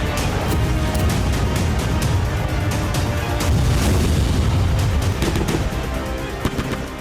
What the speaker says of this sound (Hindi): रूस की ड्रोन ब्रिगेड विस्फोट कर रही है।